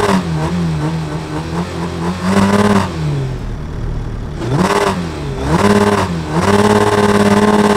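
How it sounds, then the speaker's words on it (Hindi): Loud, close revving from a 2024 Suzuki Hayabusa with a Yoshimura exhaust, several sharp throttle blips rising and falling between short idling lulls, the engine alone without talk. "योशिमुरा के एग्जॉस्ट लगे हुए हैं। मैं साउंड सुना देता हूँ,"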